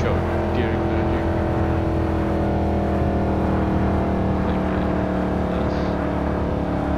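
Simulated Mercedes C63 AMG W204 engine in Assetto Corsa on an autobahn-style highway, a continuous loud V8 drone with steady harmonics filling the whole stretch without pause.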